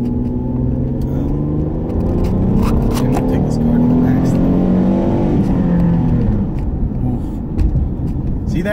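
A newly bought, modest car revs its engine close by in repeated rising and falling surges, with one brief exclamation near the end.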